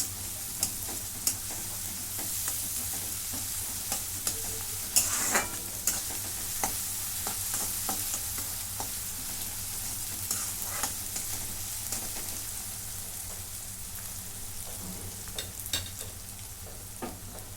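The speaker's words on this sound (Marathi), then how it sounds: "आता ह्याच्यामध्ये आलं लसूणची पेस्ट टाकून घेते आता चांगले भाजून घेते" Ginger garlic paste fries with browned onion in a pan, a steady close sizzle under frequent light scrapes and taps of a stirring spoon, with no talking.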